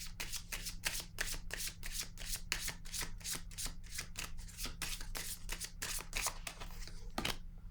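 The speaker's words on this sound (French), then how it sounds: "Là, je vais déposer une carte sur la solitude à l'envers." Tarot cards are handled and laid down during a reading, a fast run of crisp rhythmic card flicks and riffles close up over a low steady hum, with no talking.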